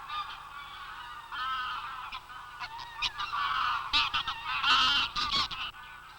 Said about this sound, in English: graylag geese arrive from Iceland, driven out by the Arctic chill